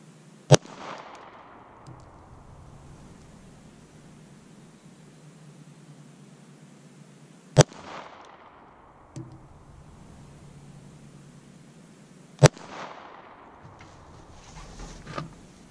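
Three sharp 9mm shots from an FMK 9C1 Gen 2 pistol crack out several seconds apart, each followed by a short echoing decay over quiet outdoor background.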